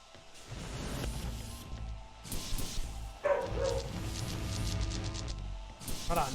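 Indoors, a dog gives a few scattered barks and yips, fairly faint and mixed with a person talking and background sounds.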